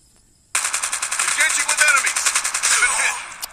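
Rapid automatic gunfire from a sniper-and-rifle battle royale match in Call of Duty Mobile, a sudden loud burst of rhythmic shots lasting about three seconds, with faint voices underneath.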